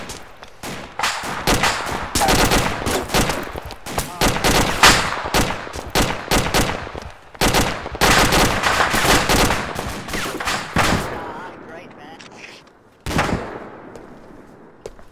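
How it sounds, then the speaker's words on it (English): Rapid bursts of gunfire in a tactical game, loud, close shots and automatic volleys crowding together almost continuously before a brief lull and one final burst. "Shots."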